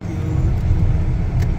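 A car engine strains with a steady, heavy low rumble as it climbs a snowy mountain road in Banff National Park in deep winter cold, with no voices over it.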